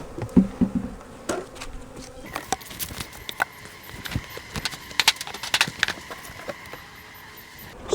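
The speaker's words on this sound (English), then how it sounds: "Try to lose as few bees as possible." Honey bees buzz steadily at close range while a beekeeper combines hives in autumn and moves honey-filled frames, with scattered knocks and clicks of wooden hive parts throughout.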